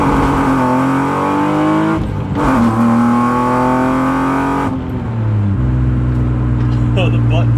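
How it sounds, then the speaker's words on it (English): A BMW E36 M3 engine pulls hard from inside the car, rising in pitch through each gear, then dipping and climbing again at the shifts, loud and close throughout. "today is a perfect day to get the E36 out and stretch those legs"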